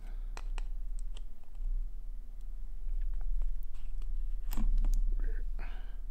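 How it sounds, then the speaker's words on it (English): Small plastic legs are clipped off a Fostex T50RP headphone socket part, giving sharp, close clicks and snaps scattered irregularly over a low steady hum. "I'm just going to remove the little plastic legs either side."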